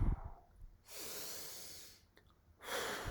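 A calm, steady exhale through pursed lips, as if blowing out a candle during a breathing exercise, repeated twice with a soft breath in between, close and breathy with no voice over it.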